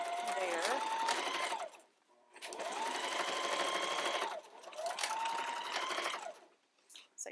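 A sewing machine runs in three long bursts as it stitches fabric for a reusable sandwich bag, each steady whirring run stopping briefly before the next; the machine sounds close and loud.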